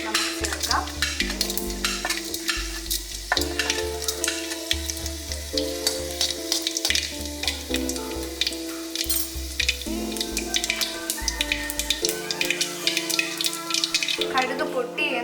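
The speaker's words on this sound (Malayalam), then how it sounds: "എണ്ണ ചൂടായതിനു ശേഷം ഇതിലേക്ക് ആവശ്യമായിട്ടുള്ള കടുക് നമുക്ക് ചേർക്കാം" Mustard seeds crackle and splutter in hot oil in a Kerala kitchen while squid thoran is made, a steady frying sizzle with small pops under loud background music.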